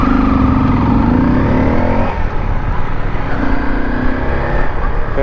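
A motorcycle engine runs loud and steady, with the note rising and falling through revs in a riding setting near a bridge in Morocco, and no talk over it.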